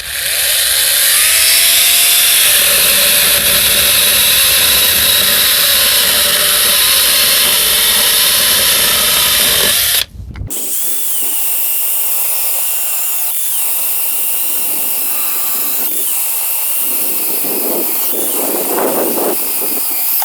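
A GTM CS18/127BL cordless mini chainsaw with a 4 Ah battery running at its second speed, a loud steady high whine that cuts off abruptly, then a quieter motor hum with clicks and rattles follows.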